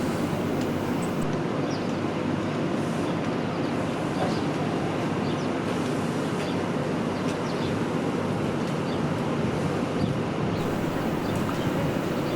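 A Pullman train passes with a continuous loud rumbling roar and steady broadband noise, rushing past close by, sustained without break throughout.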